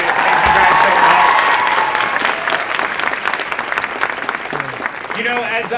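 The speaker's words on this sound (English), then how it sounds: "Give one more round of applause to Tan and JC as they exit." Loud, sustained applause from a crowd at a startup competition fills the space, gradually thinning out as a voice begins speaking near the end.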